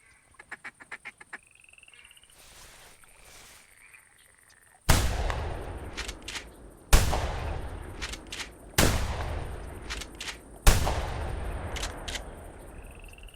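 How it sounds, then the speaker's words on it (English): In the video game theHunter Classic, four loud, sharp shotgun blasts ring out during a duck hunt, each followed by a lingering echo, after a flock of ducks quacks and wing sounds pass. "That was bad shooting"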